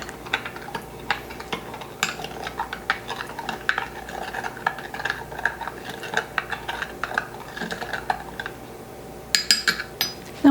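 Mixing yeast and sugar into milk and water in a bowl, rapid light clinks and scrapes of a utensil against the bowl, close and rhythmic, ending in a brighter clatter.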